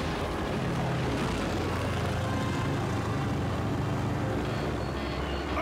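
A plane flying through a storm in The Adventures of Tintin game makes a steady, loud engine drone that fills the whole stretch without letting up.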